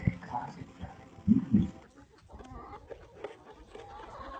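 Backyard chickens clucking close by, a few short throaty clucks and squawks mixed with rustling, while voices talk nearby.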